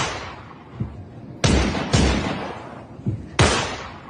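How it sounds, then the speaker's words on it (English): Gunshots from a video playing back, loud sharp cracks: four heavy blasts at irregular intervals with a few softer thumps between them and a lingering rumble after each. "you might hear gunshots"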